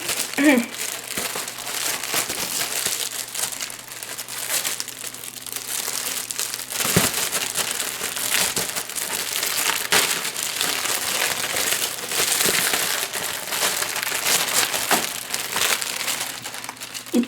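Plastic packaging of a Harry Potter sticker set crinkles and rustles continuously as it is opened, with occasional sharper crackles and a brief voice in the background.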